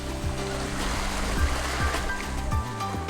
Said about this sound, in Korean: 갯바위를 때리는 파도에 맞서